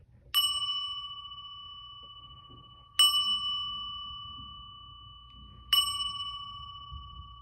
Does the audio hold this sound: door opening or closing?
no